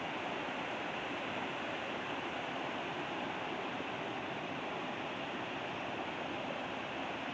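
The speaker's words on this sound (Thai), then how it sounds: "น้ำที่ไหลลงเขื่อน นะครับผม ในคลองนี้นะครับผม" Water in a canal flows toward the Pasak dam as a constant, dense rushing roar, loud and unbroken from start to finish, with no voices.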